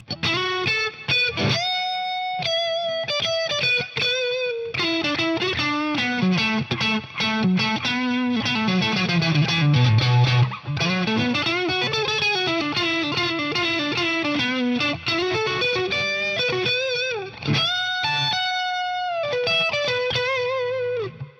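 An electric guitar through a Wampler Dual Fusion overdrive pedal with gain raised, played solo, sustained distorted lead notes and bends with quick runs, loud and gritty throughout.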